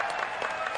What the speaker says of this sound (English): can we have a round of applause for Alex's sexy V-neck?